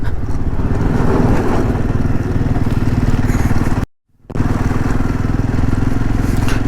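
A Harley motorcycle engine runs steadily and loud at close range during a roadside repair by a mechanic in the Zanskar valley region, with a brief cut near the middle.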